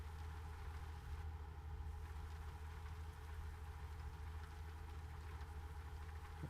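A truck with an 850 engine and an engine brake idles in a trucking simulator game, giving a steady low rumble and drone that holds constant and fairly quiet throughout.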